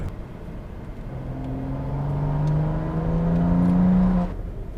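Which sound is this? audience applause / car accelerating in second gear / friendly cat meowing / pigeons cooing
car accelerating in second gear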